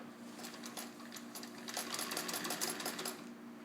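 A restored Singer 66 sewing machine in mint condition runs steadily at speed, stitching with a fast, even mechanical rattle and faint ticking, close by and alone.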